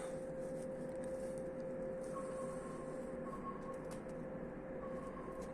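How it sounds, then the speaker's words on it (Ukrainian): A low, steady rumble of a distant train runs throughout, faint and even, with soft outdoor ambience and no talking. "Десь там вдалині гуде щось. Ага, то йде потяг."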